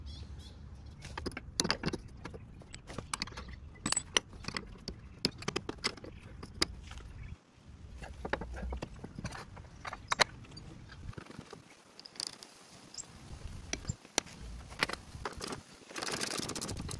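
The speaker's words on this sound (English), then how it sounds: "Let's put some nuts and bolts in." Nuts and bolts are fitted to a new Bearmark steering damper on an old Range Rover in a workshop, giving irregular metallic clinks, rattles and tool clicks at close range, with short quiet gaps and no voices.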